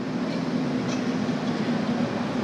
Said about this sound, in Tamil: இங்க பாருங்க, ஒரு நார்மல் மெட்ரோ ட்ரெயின்